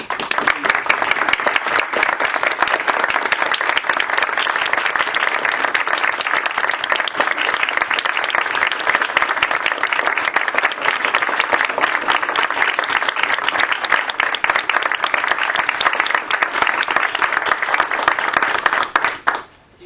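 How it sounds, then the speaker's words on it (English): Steady, dense audience applause for an opera singer fills an evening concert hall, loud and unbroken for the full stretch before cutting off at the end. "it certainly is nice to hear the applause for you here tonight"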